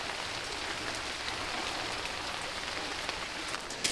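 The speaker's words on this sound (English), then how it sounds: "Started to rain." Rain begins falling on a Scottish beach, a steady even hiss of drops hitting the surface, fairly quiet and constant, with a few faint taps near the end and no voices.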